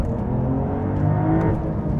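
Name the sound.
Porsche 992 GTS manual accelerating after a bogged-down launch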